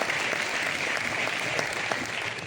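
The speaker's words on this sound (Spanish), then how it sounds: "Un aplauso para Jaraíz de la Vera, Villa Europea" Sustained audience applause at a regional motorsport awards gala in Jaraíz de la Vera, Spain, an even wash of many hands clapping at moderate loudness.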